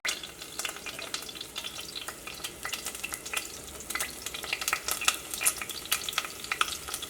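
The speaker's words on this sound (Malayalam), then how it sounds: "ഓയിൽ നന്നായിട്ട് ചൂടായിട്ടുണ്ട്. ഇതിലേക്ക് സവോളയും പച്ചമുളകും ചേർക്കാം." Chopped onion and green chilies fry in hot oil while a utensil stirs them, a steady close sizzle with scraping and clinks running throughout, no voices.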